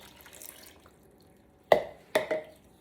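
Half and half pours into a pot of potatoes for potato soup, a couple of brief liquid splashes and glugs close by after a quiet start.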